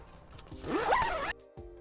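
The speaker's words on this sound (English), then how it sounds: "Don't forget to zip up all of your windows before lowering the top." Campervan zipper drawn along fabric windows and screen netting, a single close, steady zip lasting about a second that cuts off abruptly, followed by a short quieter rustle.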